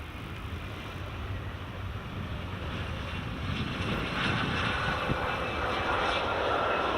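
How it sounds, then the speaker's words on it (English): A Turkish Airlines Airbus A321neo taxis at Edinburgh Airport, its engines a broad, steady roar and whine heard from a distance, mixed with gusty wind buffeting the microphone and gradually growing a little louder. "Turkish A321neo is just taxiing now."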